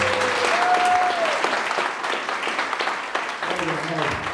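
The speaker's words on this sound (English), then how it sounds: "Let's give him a big round of applause." Wedding guests break into applause for a speaker at a reception, a loud, dense roomful of clapping that rolls on for several seconds and tapers near the end, with voices and cheers mixed in.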